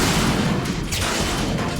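Dense, continuous gunfire from the video game Metal Gear Solid 2, a loud unbroken din of shots and blasts with no talking.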